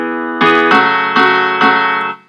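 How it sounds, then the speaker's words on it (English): Soloed piano track in a mix with its bass frequencies filtered out, four bright sustained chords struck in steady succession, close and alone before ringing off. "if I solo this piano out, you should be able to hear that there isn't really any bass frequencies within this"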